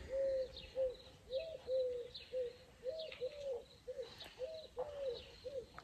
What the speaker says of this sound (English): The amount of nature sounds here, the birds.